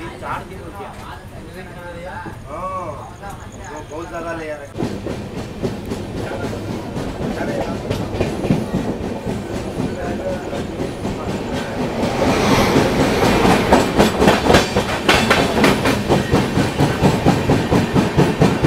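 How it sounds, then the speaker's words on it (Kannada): A goods train departs, rumbling along the rails with rhythmic clickety-clack, growing louder and denser in the second half, with a voice speaking early on. "ಯಾವುದೋ ಡಿಪಾರ್ಚರ್ ಗುಡ್ಸ್ ಟ್ರೈನ್ ಡಿಪಾರ್ಚರು ಆಗ್ತಿದೆ."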